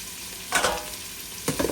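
Green chillies sauté in a pan for mutton biryani with a soft continuous sizzle, broken by two short bursts of stirring or scraping, close by and without talking.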